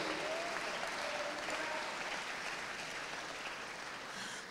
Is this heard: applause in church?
yes